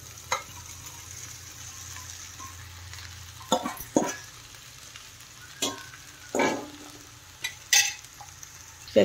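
Sago pearls and coarsely ground green chilli stirred in a hot pan for sabudana khichdi, with a steady oil sizzle under repeated scraping strokes of a spatula, close by and fairly loud.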